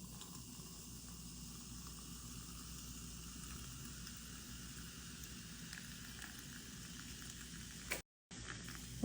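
Carbonated water fizzing in a pomegranate Vimto mojito, a steady soft hiss of bubbles throughout with a short cut near the end, faint and without voices.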